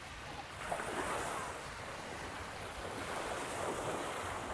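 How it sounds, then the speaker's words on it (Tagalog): Waves of Manila Bay near Naic, Cavite, heard as a continuous wash of surf blended with steady wind buffeting the microphone, constant and fairly loud with no distinct breaks and no talking. "So ito na yung Manila Bay."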